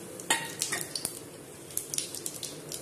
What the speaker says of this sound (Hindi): अब मैं सब्जी को छोंक देती पहले मैं जीरा डालूँगी फिर ये कुछ खड़े मसाले